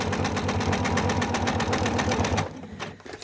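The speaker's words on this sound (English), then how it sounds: "right now I'm stitching through an applique" A sewing machine stitches through an appliqué on a quilt, running in a fast, even mechanical rhythm for over two seconds and then stopping.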